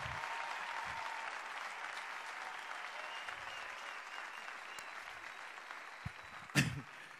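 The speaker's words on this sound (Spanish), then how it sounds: "¡Aplauso ovación!" A comedy show crowd at a venue in Córdoba bursts into applause and ovation, a broad wash of clapping that holds steady and slowly thins, with a sharp thump near the end.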